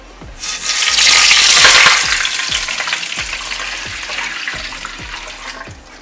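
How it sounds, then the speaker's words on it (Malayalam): Seven cups of water pour into a hot pot for biryani with a loud sizzling rush that gradually settles into steady bubbling hiss, with faint clinks throughout. "ഇതിലേക്ക് ഞാൻ ഈ 7 കപ്പ് വെള്ളം അളന്ന് വെച്ചത് ഒഴിക്കുകയാണ്."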